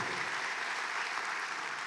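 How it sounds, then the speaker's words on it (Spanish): A church congregation applauds during a sermon, a dense, steady wash of many hands clapping at once, sustained and even throughout. "Dale un aplauso al Señor."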